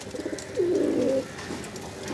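A teddy pigeon gives a single low, rolling coo in a loft, close and alone over faint background hum.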